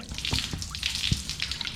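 Rinse water poured from a bottle while cleaning and fixing a clutch fluid problem, a splashy trickle with a few sharp drips and gurgles, close by and moderately loud, no talking.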